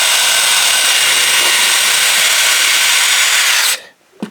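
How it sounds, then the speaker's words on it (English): Power drill boring holes, a loud continuous whirring grind held steady for several seconds, then cutting off abruptly into near silence with a small knock at the end. "I'm going to drill a couple of holes in here"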